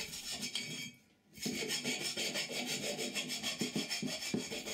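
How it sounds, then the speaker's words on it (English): Steady back-and-forth rasp of a hand file dressing the sharp ground edges of steel tubing after fishmouth cutting, continuous and close with a brief pause, no voices. "The edges of the ground area will be razor sharp, especially inside the tubing, so some hand filing will be necessary."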